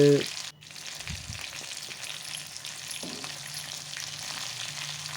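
Chicken frying in a pan for a village-style biryani, a continuous close sizzle running under a low hum, with a couple of brief clunks early on and no one talking.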